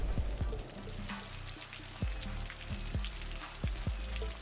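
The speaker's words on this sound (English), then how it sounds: "I'm sure you all can still hear how the rain is still pouring." Rain pours in the city-building game Cities Skylines as a steady hiss of falling rain, close and fairly loud, with scattered soft thuds and ticks over it and no speech.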